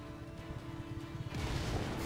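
Explosions in the video game Just Cause 3: low rumbling booms with a steady tonal hum, then a louder burst of blast noise that carries through to the end.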